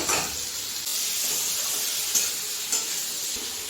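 Half-boiled okra and potato pieces sizzling in oil in a pan, a steady close hiss with brief flares as the vegetables are stirred.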